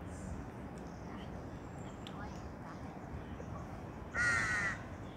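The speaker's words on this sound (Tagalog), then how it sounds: "Yun oh, mga uwak." A crow caws once, loud and close, over a steady outdoor rumble of traffic and distant chatter in Lumphini Park, Bangkok, in the morning.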